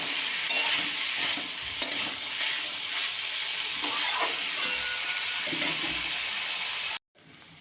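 Flat beans fry in oil in a covered pan with a steady close sizzle and occasional light stirring clicks; the sound cuts off abruptly near the end, and a fainter hiss follows.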